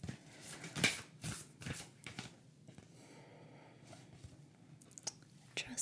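Work Your Light tarot cards are shuffled up close in a quiet room, with soft riffles and flicks in irregular bursts that are crisp but gentle, and faint whispering is heard between them.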